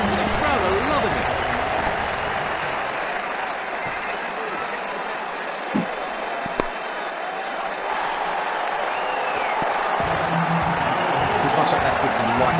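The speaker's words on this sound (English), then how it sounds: "6 runs and the crowd are loving it." Stadium crowd in Ashes Cricket 2009 roaring after a six, a steady dense wash of cheering and applause that holds for the whole stretch with no talk over it.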